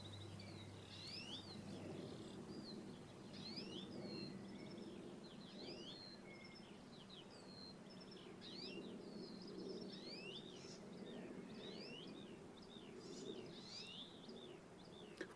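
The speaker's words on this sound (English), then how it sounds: "I thought we'd just sit in silence and listen to the birds." Birds sing outdoors with many chirps, tweets and soft dove-like coos spread across a steady background, faint and distant, with no speech.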